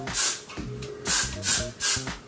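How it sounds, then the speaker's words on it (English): Several short hissing bursts from an aerosol can of Got To Be Blue hair spray, close to the microphone, coming in quick uneven pulses. "I'm gonna go in with my Got To Be Blue spray"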